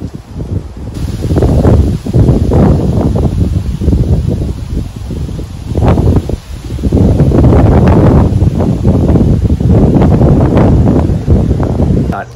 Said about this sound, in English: The wind's blowing a ton right now.